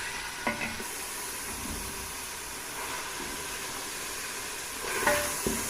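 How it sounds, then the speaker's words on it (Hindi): Mutton sizzles steadily in hot oil in a karahi, a continuous hiss broken by a few soft scrapes of stirring and a brief flare of louder spitting near the end. "ऑयल गर्म हो गया, अब इसमें मैंने मटन डाल दिया। इसको हल्का सा फ्राई करूँगी"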